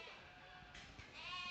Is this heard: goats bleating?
yes